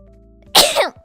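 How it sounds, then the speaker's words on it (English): A single sharp sneeze bursts out after a brief quiet intake, loud and close, then trails off quickly. "I'm gonna sneeze."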